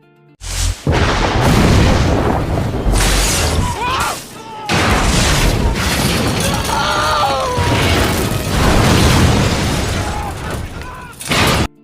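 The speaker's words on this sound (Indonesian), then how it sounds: "Hingga akhirnya ledakan pun nggak terelakkan lagi" Heavy booming blasts and crashing debris roar through a dense, loud cinematic mix, with a brief drop to near silence between the explosions.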